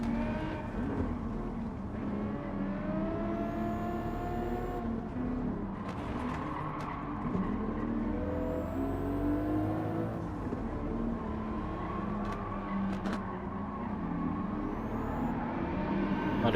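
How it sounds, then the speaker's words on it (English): Engine roar from race cars with VQ engines in a racing video game, a steady, dense drone with rising and falling revs as several cars run close together through the whole stretch. "That's the unmistakable sound of VQ engines."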